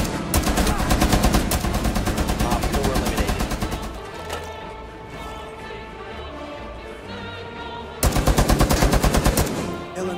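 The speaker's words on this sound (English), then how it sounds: "LMG! Mounted and loaded!" Rapid bursts of mounted light machine gun fire from Tachanka in Rainbow Six Siege, loud and close, a long sustained volley, a pause with lingering echo, then another burst.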